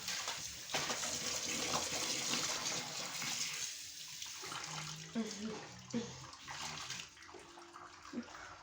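Running water pouring steadily while a rug is washed, a continuous rushing splash close by, easing in the second half where faint voices and clatter come through.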